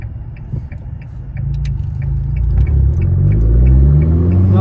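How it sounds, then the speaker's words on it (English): A Corvette Z06 engine rumbles close up, then blips and climbs in revs through heel-and-toe downshifts, its deep throaty note rising steadily and growing louder toward the end. "He can make some beautiful noises with this car"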